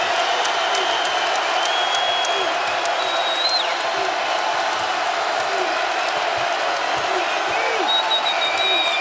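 Basketball arena crowd during a North Carolina vs Tennessee NCAA game in 2017, a loud, steady roar of cheering and whistles with scattered squeaking shoes, under a commentator's voice.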